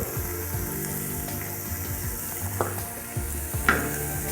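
Ghee with pepper powder sizzling in a pan for pudina thambli, a steady close frying hiss broken by a few faint clinks and stirring scrapes, no voices.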